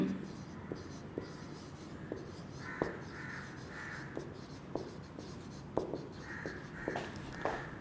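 Chalk writes on a board during a chemistry lecture, with irregular sharp taps and short squeaky strokes close by over a quiet room.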